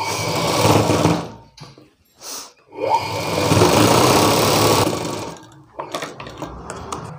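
A sewing machine runs in fast bursts while stitching a fold on a blouse piece, loud and close, stopping briefly twice before starting again.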